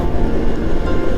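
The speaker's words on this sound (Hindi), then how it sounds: "ये है रेलवे क्रॉसिंग।" A train at a railway crossing gives a loud, steady, low rumble for just over a second, with no voices.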